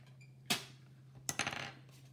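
Scored card stock is folded by hand for a center step card, producing two faint, brief crisp creasing crackles about a second apart in an otherwise quiet room.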